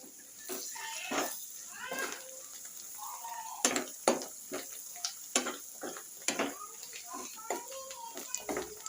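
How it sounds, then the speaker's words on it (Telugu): A spoon stirs mutton boti fry with coriander and mint in a pan, giving a soft sizzle and repeated scraping and clinking of utensil on metal while a person talks over it. "దీంట్లోకి అయితే కొత్తిమీర పుదీనా అయితే వేసేసుకుందాం. కలిపేసుకుందాం అండి."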